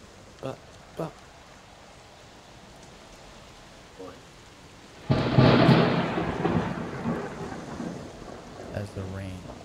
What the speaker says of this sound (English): As the rain pouring down the street